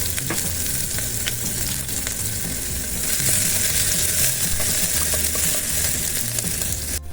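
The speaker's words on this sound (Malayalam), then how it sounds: "കടുക് മൂത്ത് വന്നതിന് നമുക്ക് കുറച്ച് അരി വെച്ച ചെറുള്ളി, പിന്നെ നമ്മൾ പച്ചമുളകൊക്കെ ഇതിലേക്ക് ചേർത്ത് കൊടുക്കാം." Mustard seeds, chopped shallots and green chillies fry in hot oil, a loud continuous close-up sizzle that grows a little brighter partway through, with no voices.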